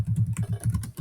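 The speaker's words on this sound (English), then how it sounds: "Hold on, typing too fast." Rapid typing on a computer keyboard, close and crisp, with quick bursts of key clicks and brief pauses between them, no voices.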